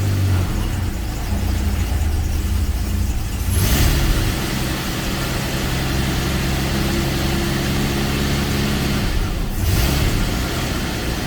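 A cold 1989 Jaguar Sovereign V12 misfiring and not running on all twelve cylinders idles loudly and continuously, its rough rumble steady with no speech over it.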